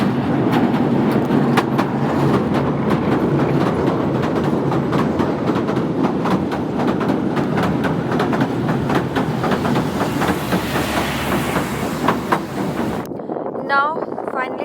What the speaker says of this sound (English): See, the train is coming from that side.